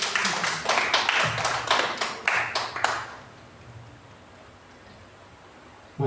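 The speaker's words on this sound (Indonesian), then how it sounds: "Beri tepuk tangan Bapak Ibu biar nggak ngantuk" A church congregation clapping together in steady rhythmic beats, a burst of close, loud hand claps that stops abruptly after about three seconds, leaving quiet room tone.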